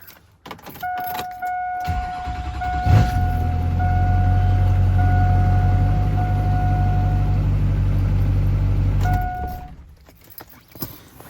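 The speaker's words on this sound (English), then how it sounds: "I'm gonna turn the truck on so I can use the hydro boost" A 1999–2006 Chevrolet Silverado 2500 pickup engine cranks, catches and settles into a steady, loud close idle, with a chime tone sounding over it before the engine shuts off.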